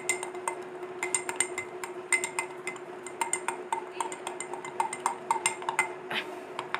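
A spoon stirs moringa powder into a drink in a glass, ringing with repeated light clinks against the sides in a steady, quick rhythm over a faint steady hum, close and fairly quiet, with no talking.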